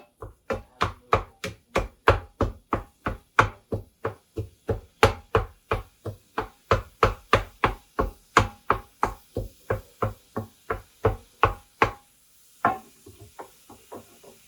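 Meat is pounded flat for patty melts: about three dozen sharp, evenly spaced thuds in a steady rhythm, close and clear, ending with a short pause and a few scattered knocks.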